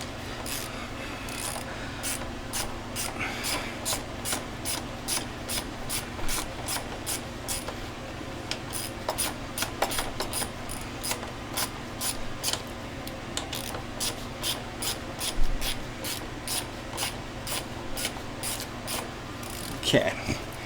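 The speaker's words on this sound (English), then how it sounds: "that one's going to be hard to loosen as well. So I'm going to hold the T45 bit in there nice and tight." A ratchet loosens a rear shock bolt on a 2020 KTM XC 300i motorcycle using a T45 bit, a long run of evenly spaced sharp clicks close up, with occasional knocks.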